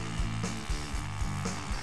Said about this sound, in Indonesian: Kita akan coba pahatkan di batu ini